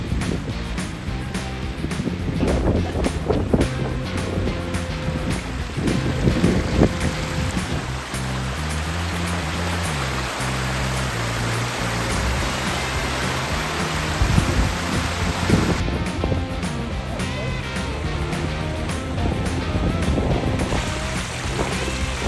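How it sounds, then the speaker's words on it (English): A big pondless waterfall at a cemetery sends water rushing continuously, a broad steady splashing roar that holds for the whole stretch with no talk. "Big Pondless Waterfall, huh?"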